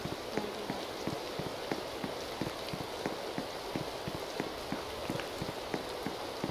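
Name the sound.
rain falling in a video game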